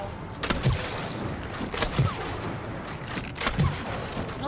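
Video game gunfire from It Takes Two pops in a rapid stream of shots, with heavier thumps at intervals, fairly loud and close without talk over it.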